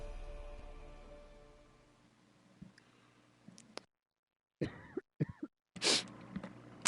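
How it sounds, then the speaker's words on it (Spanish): A person coughs several times in short, close, harsh bursts after a quiet stretch, with faint clicks before them. "La tos."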